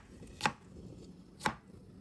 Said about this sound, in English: We're just chopping this into bits.